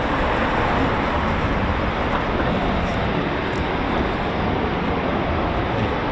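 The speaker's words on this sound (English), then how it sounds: "That's the sound of the EJ200 engines starting up." Twin EJ200 engines on a Eurofighter Typhoon FGR4 at an RAF airbase, spooling up into a loud, steady, broadband jet roar that fills the scene without a break.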